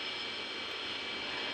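A CRJ-1000 airliner's jet engines hum steadily before takeoff in a flight simulator, a constant broad whine and rush with no talking.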